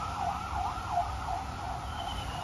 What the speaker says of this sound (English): there goes an ambulance by